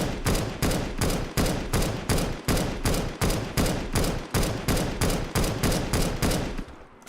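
AWP sniper rifle in CS:GO firing in a fast, regular series of about fifteen loud, booming shots, each with a short echoing decay, heard up close with no talk.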